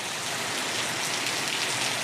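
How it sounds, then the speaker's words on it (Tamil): Heavy rain pours steadily in the morning, a dense, even hiss of drops hitting surfaces nearby, with no voices over it. "பாருங்கள் எவ்வளோ மழை பெய்யுது"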